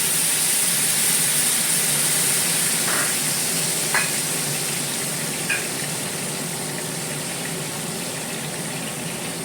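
Tamarind water goes into a simmering Bengali Horo Gouri fish curry in a pan, giving a steady close hiss of bubbling liquid with a few soft knocks and splashes.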